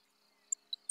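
A recording of a grasshopper sparrow's song plays as a few very faint, high, thin insect-like ticks spaced over a second, soft and isolated against near silence.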